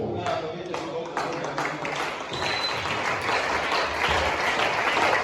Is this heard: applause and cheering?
yes